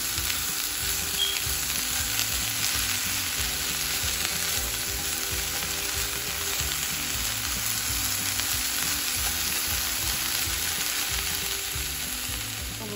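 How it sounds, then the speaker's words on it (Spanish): Onions and green chile fry in a pan, a steady, loud, even sizzle with constant crackle and no pauses, heard alone with no voices. "Lo voy a dejar acá que se frían un poquito las cebollas y el chile verde"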